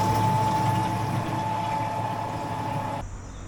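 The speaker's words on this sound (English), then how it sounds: "So you just tap your card, and then you get fresh, clean water." A water pump filling a van's tank runs with a steady, close mechanical hum and rushing flow, then cuts off abruptly just before the end, leaving a faint background.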